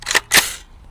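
AR rifle fired into a row of watermelons: two sharp, close reports in under half a second, the second louder with a brief trailing decay.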